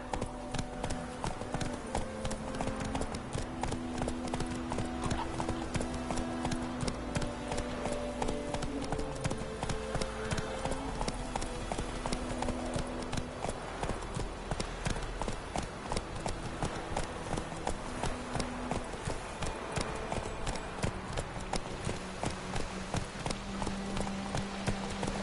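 Hooves of Roach, Geralt's horse in the video game Witcher 3: Wild Hunt, clip-clop in a steady, continuous trot, close and clear over a layer of background game music.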